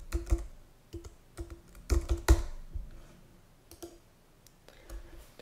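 Computer keyboard keys clack in short irregular clusters as a command is typed, close and fairly crisp, with pauses between bursts and no talking.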